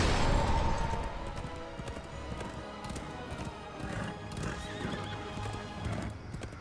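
Horse hooves clip-clop steadily while a horse neighs in Heroes of the Storm, with game-like effects and faint thuds in the background.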